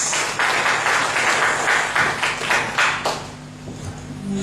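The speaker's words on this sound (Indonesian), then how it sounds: "Kita tepuk tangan buat kakak Joyce" An audience at a seminar in Timor-Leste claps together in a dense, fairly loud burst of applause that thins out and fades after about three seconds.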